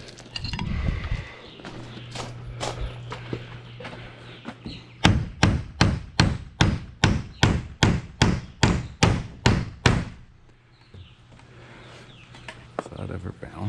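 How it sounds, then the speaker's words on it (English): Steady, evenly spaced hammer blows on wood, about a dozen sharp strikes in a row, near and loud, with some lighter taps and handling noise before. "I'm gonna grab a real hammer"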